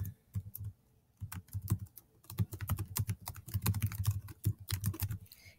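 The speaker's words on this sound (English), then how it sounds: "you're just going to type your first name and you type your last name" Fingers type quickly on a computer keyboard in bursts of close, crisp key clicks, with short pauses between words as a name is entered into a spreadsheet, with no talk.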